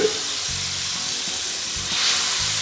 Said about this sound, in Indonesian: Kita goreng bumbunya,